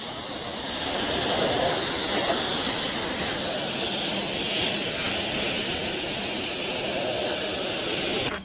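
Pressurized water spray rinses a car in a steady, loud, broadband hiss that runs unbroken, close to the listener, with no voices.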